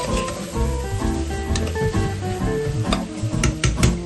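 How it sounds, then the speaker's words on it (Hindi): Spices roast in a pan over a low-medium gas flame for Bihari pressure-cooker chicken, giving a steady, close sizzle with scattered scraping and clinking from stirring throughout. "गैस हमारा लो मीडियम लो पे इस तरह से चलेगा ये मसाले भूनने के टाइम में। इसको भून लेंगे अच्छे से।"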